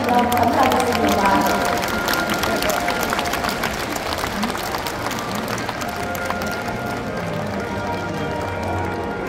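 Loud, dense applause from a crowd filling a gymnasium at the closing ceremony of the 42nd national sports festival for athletes with disabilities, welcoming officials onto the stage; the clapping runs continuously throughout, mixed with crowd murmur.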